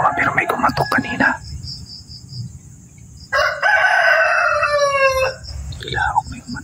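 A rooster crows once, a loud, drawn-out call fairly close by, with insects chirring steadily underneath and some brief indistinct sounds before it.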